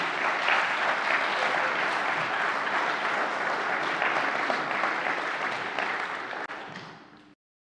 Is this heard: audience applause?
yes